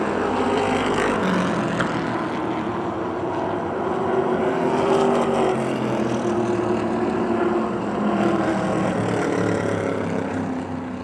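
Race cars on a dirt speedway battle wheel-to-wheel on the final lap, a dense, steady engine roar that stays loud and continuous throughout without any talk.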